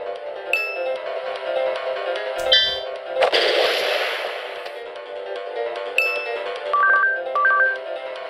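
A phone rings in a video game, a repeating electronic ringtone chiming in short bright bursts with a brief noisy thump in the middle and no voices.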